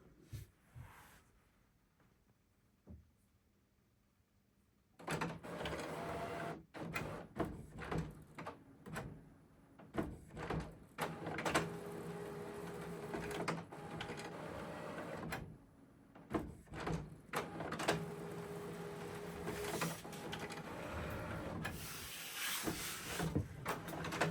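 An HP 9730e printer sits quiet, then bursts into uneven mechanical activity: clunks, whirs and feed noises in stop-start spurts with brief pauses, close by and with no talk.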